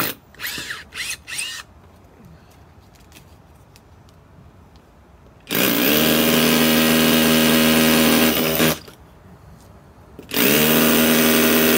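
An SDS hammer drill bores into a 4-inch soil stack, starting after a quiet stretch with a few light knocks, running loud and steady for about three seconds, pausing briefly, then starting up again, close by and alone.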